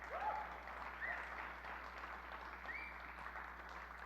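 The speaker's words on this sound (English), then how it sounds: "Let's get a round of applause for that." At the Wisconsin Youth Harmony Festival 2025, an audience gives sustained applause. The clapping is steady and mid-level, with a few faint whoops or whistles rising above it.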